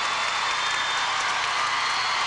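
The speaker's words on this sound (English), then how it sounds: "she gets a standing ovation from the crowd here in Portland" A Portland arena crowd gives gymnast Shannon Miller a standing ovation, a steady, dense wash of applause and cheering held at full volume throughout.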